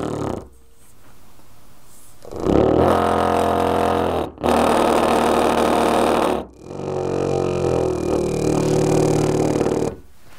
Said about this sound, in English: You can see that isn't a good combination because the motor vibrated.